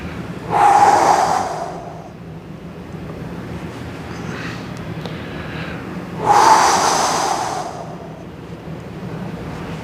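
Two long exhaled breaths during a side-bend stretching exercise, each a breathy rush lasting a couple of seconds, close to the microphone, separated by quiet background hiss.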